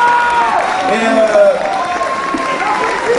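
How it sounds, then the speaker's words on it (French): An award-ceremony audience applauds at the Quenelles d'Or, a steady wash of clapping running under someone speaking loudly into a microphone throughout. "Vous pouvez l'applaudir très fort parce qu'il a fait très courageux."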